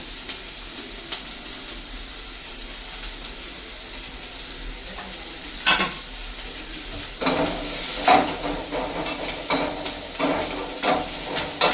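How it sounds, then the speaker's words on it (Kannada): Onions and curry leaves fry in oil in a pan for methi palya, a soft continuous sizzle broken by louder scraping strokes of a spoon stirring, growing busier toward the end with no talking. "ಈರುಳ್ಳಿ ಕೆಂಪಗಾಗೋವರೆಗೂ ಹುರ್ಕೊಂಡು ಅದಾದ್ಮೇಲೆ ನಾನಿಲ್ಲಿ ಕರಿಬೇವು ಹಾಕ್ತಾ ಇದ್ದೀನಿ"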